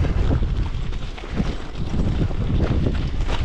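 Strong, cold wind in the Sierra Nevada mountains at minus six degrees, roaring and buffeting the microphone in heavy continuous gusts that dip briefly before surging again, with no voices.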